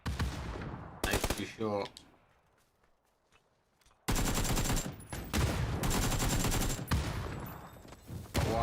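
A gunfire volley in the video game PUBG: loud, dense bursts of automatic fire that cut off for a few seconds, then resume in heavy, rapid sustained volleys, with a brief voice in the gap.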